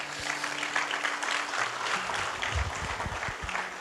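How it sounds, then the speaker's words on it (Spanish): A church congregation applauds during a sermon, dense clapping that carries steadily from start to finish, with low thumps and a faint hum beneath it. "Dele un aplauso al Señor si usted lo cree."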